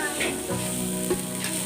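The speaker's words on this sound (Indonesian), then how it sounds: "Setelah itu kita aduk-aduk hingga merata." Fried rice with spices sizzles in a frying pan while being stirred, a steady close crackle of frying with scraping stir strokes, no voices.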